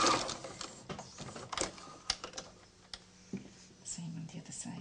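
A sewing machine stitches a quarter-inch seam on a small fabric pocket tissue holder, giving an irregular, close mechanical clatter of short ticking bursts with brief pauses.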